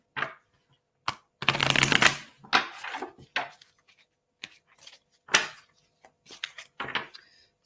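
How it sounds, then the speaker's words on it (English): Tarot cards are shuffled and drawn, with separate bursts of riffling and flicking, one long loud shuffle near the start and shorter card snaps after it, close by between quiet gaps and no talk. "So I'll pull some more cards for you, Julie"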